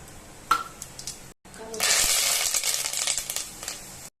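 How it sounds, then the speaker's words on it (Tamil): Fennel seeds and curry leaves temper in hot oil. A few soft clinks and a brief silence lead into a loud, bright burst of crackling sizzle that keeps spluttering unevenly. "எண்ணெய் சூடாகவும் சோம்பு கருவேப்பிலை போட்டு தாளிச்சுக்கலாம்"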